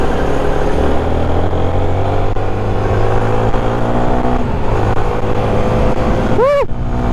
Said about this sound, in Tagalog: Ang ganda pa ng makina niya.